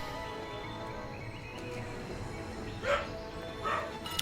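A dog barks in the background during an online game session: two short, fairly faint barks near the end, over a steady bed of game ambience with no talking.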